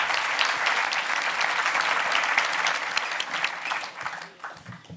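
An audience at a climate mock-trial event applauds a witness, a full, steady clatter of many hands clapping nearby that thins out and fades toward the end.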